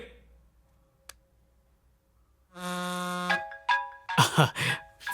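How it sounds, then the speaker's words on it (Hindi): A phone rings indoors with a bright, sustained multi-tone ring lasting under a second, followed by a few shorter electronic bursts and a louder rustling clatter near the end. "फोन बज रहा है, कोई इंपॉर्टेंट कॉल होगा।"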